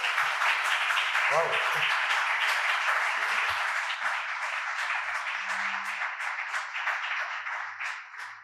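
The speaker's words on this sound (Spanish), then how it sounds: "por favor, un aplauso" Audience applause after the introduction of a lecture speaker at a cultural conference on forbidden female gladiators, steady clapping across the whole span with a brief exclamation from a man near the end.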